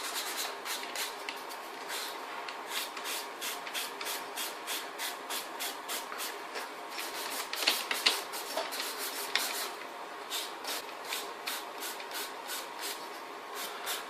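A manual nail station's dust extraction suction runs steadily as a broad, even airflow hiss, with a rapid pulsing texture and a few brief louder bumps midway, no voices present.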